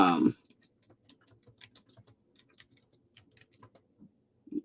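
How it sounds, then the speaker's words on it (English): Keys clatter on a computer keyboard in a quiet room, a run of light, irregular taps spaced across several seconds, with a short burst of speech at the start. "I'm typing it in so that I can give you the proper synopsis of it"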